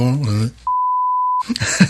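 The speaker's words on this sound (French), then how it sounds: "je vais biper ça" A steady single-tone censor beep cuts in for under a second between stretches of someone talking.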